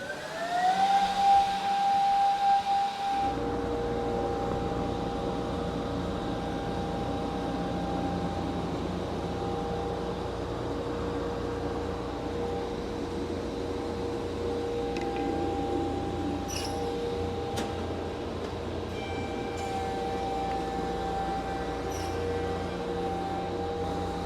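A laminate countertop edging machine with a glue pot and roller starts up after a few seconds, then holds a loud, steady mechanical hum with a high whine and occasional faint clicks.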